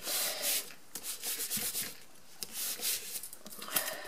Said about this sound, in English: I'm just going to rub it from the back as well.